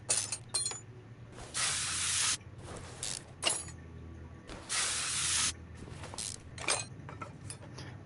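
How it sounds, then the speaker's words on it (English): In Car Mechanic Simulator 2021, a rear drive axle is sprayed off with two long loud hissing bursts of spray, separated by shorter spurts and metallic clinks of parts being handled. "Alright, we're going to spray this thing off."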